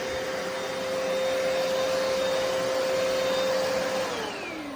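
A Hoover PowerDash Pet FH50700 carpet cleaner running, a loud, steady close-up motor roar with a high whine that drops in pitch as the machine starts to wind down near the end.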